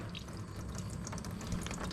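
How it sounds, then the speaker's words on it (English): Coolant trickles steadily out of a loosened water pump on a turbocharged Nissan 300ZX during a timing belt job, a close, continuous dripping and splashing of liquid with no voices. "you can kind of adjust how much you want the fluid to leak out"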